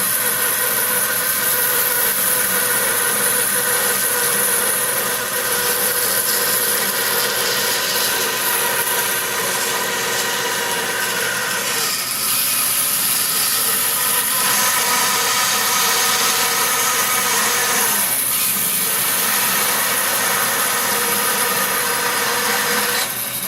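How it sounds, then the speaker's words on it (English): A saw blade cuts along a line through a flame maple guitar neck blank, giving a loud, continuous, even rasp of wood being cut from start to finish, with no talking. "we can bring our blade right in without trying to cut in on a curve. And just follow that line"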